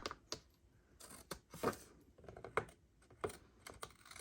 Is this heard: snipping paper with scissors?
yes